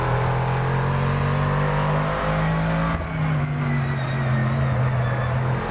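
An old Dodge race car in the GT2 World Championship racing video game holds a loud, steady engine drone, its pitch sliding down and then shifting after a brief dip midway as the car works through a corner.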